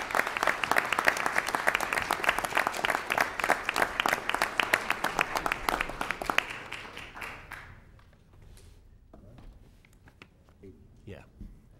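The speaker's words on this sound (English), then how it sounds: "another round of applause for all of our elected officials" Applause at a city council meeting in Elmhurst honoring newly sworn-in elected officials: dense, steady clapping from an indoor audience that fades out after about six seconds, leaving quiet room noise and a few scattered claps.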